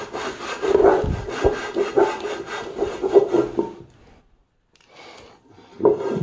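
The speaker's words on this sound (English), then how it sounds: "Maybe I need to scrub harder." A surface is scrubbed hard after a foaming cleaning agent is applied, giving loud, close, rhythmic rasping strokes. The scrubbing pauses into near silence, then starts again briefly.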